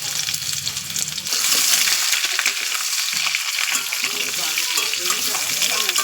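Parboiled new potatoes fry in oil in a wok, a loud, steady broadband sizzle that swells after the first second, with occasional light scraping as they are stirred.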